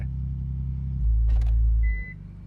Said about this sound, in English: It's that classic Japanese market reverse beep